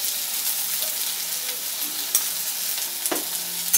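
Jujube (kul) chutney stirred in a pan with salt and turmeric, a soft continuous sizzle with scraping spoon strokes and a few sharp clinks against the pan.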